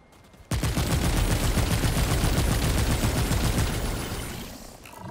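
Sustained rapid gunfire from an infinite-ammo weapon shooting targets in Remnant 2, a loud dense stream of shots that begins abruptly and carries on for several seconds before tapering at the end.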